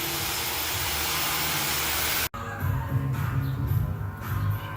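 A V6 engine with a 3-inch exhaust and ZZP muffler starts after a rush of hiss that breaks off suddenly. A deep, rumbling idle follows with slight surges, close by and alone.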